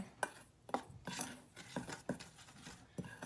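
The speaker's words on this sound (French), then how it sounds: "on va mélanger tout ça ensemble" Ingredients for tofu nuggets being stirred together in a bowl, quiet scraping and clinking of a utensil against the bowl in irregular strokes, close and faint with no voices.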